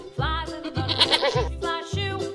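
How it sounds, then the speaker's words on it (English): A goat bleats in a string of about four wavering, nasal cries close to the listener, with short gaps between calls and no other sounds. "Goat."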